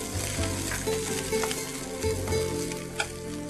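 Thin carrot slices stir-fried on a teppanyaki griddle for paneer: loud, close, steady sizzling with frequent scrapes and taps of a spatula, no talking.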